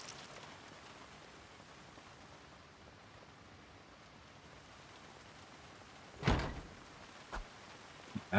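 Steady rain hiss falls in a zombie survival game during a raid, a constant soft wash throughout, broken near the end by a few sharp knocks or thumps.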